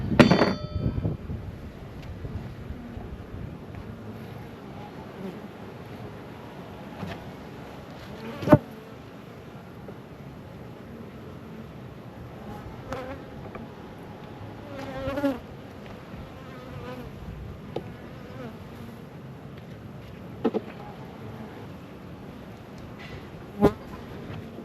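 Honeybees buzz steadily around an opened Flow Hive while frames of new honey are inspected, with a soft continuous drone and occasional clicks and knocks from handling the hive.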